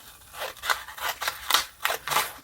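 Scissors snip through paper for a pocket-envelope craft, with about five or six crisp, close cuts in quick, uneven succession.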